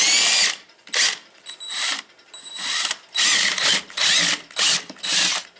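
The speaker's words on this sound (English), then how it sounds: "I'm going to do it with a drill to speed up the process" A power drill spins the gearbox of a home-built quarter-scale outboard motor in loud whirring bursts of varying length, stopping and restarting with a grinding, ratcheting mechanical whine.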